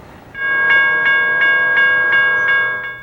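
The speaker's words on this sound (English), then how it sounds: "A train is coming." Railroad crossing warning bell clangs in a steady rhythm, about seven even strikes, loud and close over a low rumble as a train approaches the crossing.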